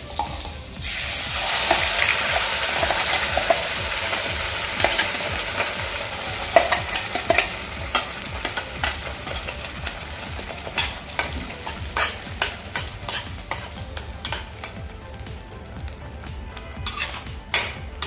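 Ground masala paste sizzling and frying in a pan with cumin for Kashmiri rajma, a steady close hiss with a spoon scraping and clinking against the metal in repeated strokes, the stirring growing more rhythmic toward the end.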